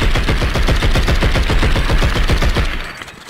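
Rapid automatic gunfire from a gun in the video game Blood And Bacon, a loud, steady burst of closely spaced shots that runs for about three seconds before cutting off.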